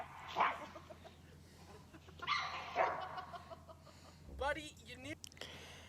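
Winston the dog mouths off at Beau in a string of short growly barks and yaps, close but fairly quiet, with a person talking over them.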